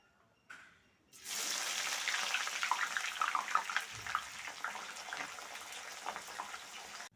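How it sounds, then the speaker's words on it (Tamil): A handful of onions drop into hot oil for deep-frying, setting off a sudden steady loud sizzle with crackling bubbles after a brief soft clatter, close and without talk. "சோத்துக்கு மேலே தூரத்துக்கு வெங்காயம் பொரிச்சு எடுக்க போகிறோம்"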